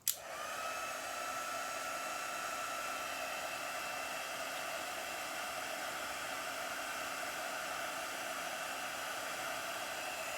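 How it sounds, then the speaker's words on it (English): A heat tool blows a steady, close hiss and whir as it melts embossing powder on a handmade Christmas card, starting with a click and then running evenly and alone. "I'm going to heat this up."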